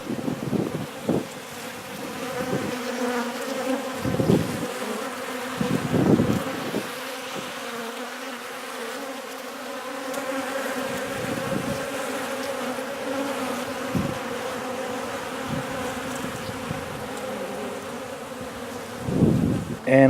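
Honey bees buzz steadily and close by while cleaning honey off cross-combed frames, a dense continuous hum with individual bees swelling louder as they pass near.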